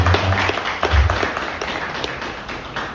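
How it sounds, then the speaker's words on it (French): An audience at a conference meetup claps together, loud and dense at first, then thinning and fading slightly toward the end. "Ça mérite un applaudissement."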